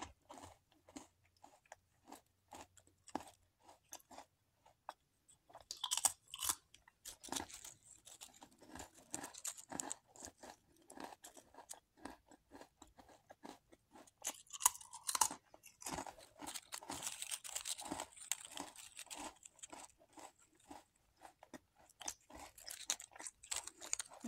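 Close, crisp crunching and chewing of Savoritz thin wheat crackers, a dense run of sharp bites and crackly mastication that grows busier and louder partway through, with no talking.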